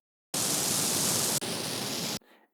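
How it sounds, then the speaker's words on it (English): A mono flamethrower sound effect: a loud, steady broadband roaring hiss lasting about two seconds with a brief break in the middle, then a faint tail, heard alone. "or the flamethrower,"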